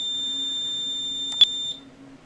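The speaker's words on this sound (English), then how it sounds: "the panel is going to make noise again" A fire alarm panel sounder gives a steady, piercing electronic tone that holds continuously, broken by one brief click, then cuts off near the end, leaving a low hum.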